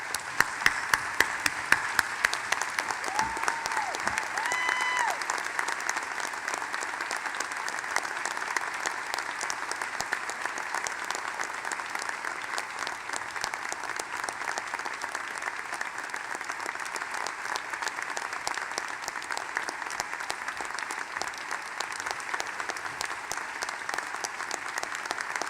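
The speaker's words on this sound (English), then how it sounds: "give her a big round of applause and show our thanks" A graduation audience at the University of Louisville Brandeis School of Law gives a long round of applause for Barbara Thompson. Dense, even clapping fills the hall without pause, with a few sharper claps at the start.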